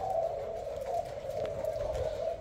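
A Malaysian spotted dove of a cooing line gives a steady, sustained low coo with a gentle wavering quality, close and clear, with no voices.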